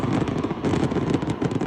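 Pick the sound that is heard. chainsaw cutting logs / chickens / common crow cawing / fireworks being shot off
fireworks being shot off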